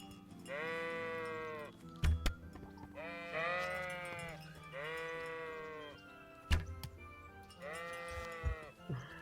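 Sheep bleat in the medieval video game Kingdom Come: Deliverance, four or five long wavering baas spaced a second or two apart, moderately close, with a few thuds and faint background ambience between calls.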